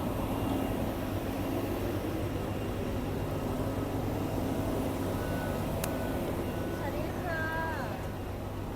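A tiny airplane drones steadily at a distance, a constant engine hum beneath broad noise with no clear voices.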